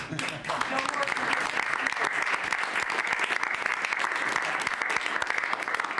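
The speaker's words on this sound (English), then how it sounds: "The press actually broke out in applause." Dense, sustained applause from the press corps fills a White House cabinet meeting room, steady and loud for the whole stretch with a few voices mixed in.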